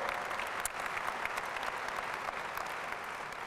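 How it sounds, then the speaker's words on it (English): An audience applauds steadily at a university journalism school commencement ceremony, a dense, even wash of many hands clapping in a large hall with no talking over it. "You get another round of applause"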